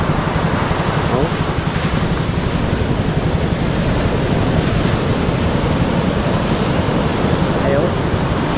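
Large ocean waves roll and break in a steady, loud wash of surf with wind noise against the microphone, a continuous roar with no distinct pauses.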